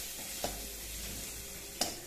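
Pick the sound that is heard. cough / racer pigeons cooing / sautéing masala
sautéing masala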